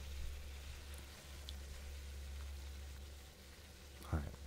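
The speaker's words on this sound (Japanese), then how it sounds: "ちょっと油敷いて 焼くと、 まあ、フライパンにもくっつかずにいいかなという感じですかね" Squid sizzling steadily in a lightly oiled frying pan, a soft, continuous hiss at low level with a brief louder crackle near the end.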